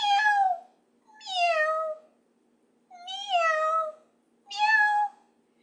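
A human voice imitates a caracal's high meow, four drawn-out rising-then-falling meows spaced about a second apart, close and clear with no other sound.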